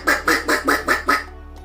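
A duck quacks six times in a quick even series of loud, nasal calls, close and clear, then stops, leaving a faint background hum.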